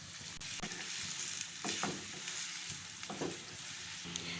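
Onions shallow-fry in ghee for aloo keema, a continuous close sizzle and crackle with occasional stirring scrapes of the spoon in the pan.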